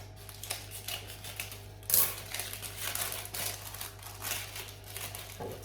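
Scissors cut around greaseproof paper to line a cake tin, producing faint crisp snips and crinkles over a low steady hum, with one sharper rustle partway through.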